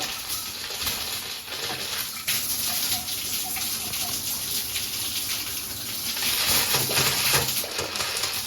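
Hot water gushes steadily from a tap with air in the line, with occasional sputtering surges. The flow grows louder toward the end, heard close by.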